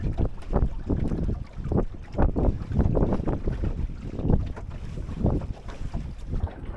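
A Drascombe Lugger sailboat under full sail in strong wind, with heavy wind buffeting the microphone and water rushing and slapping against the hull.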